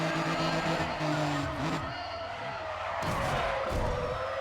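Car tires skidding and squealing in the racing game Need for Speed ProStreet, a sustained screech over a roaring engine with a voice talking over part of it.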